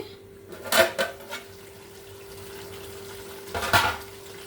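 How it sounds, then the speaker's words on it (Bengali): A metal lid lifted off a pot of broiler chicken curry, with two short clanking clatters of lid against pot separated by a quiet stretch of low kitchen hum. "আমি আরেকবার ঢাকনা খুলে দেখছি"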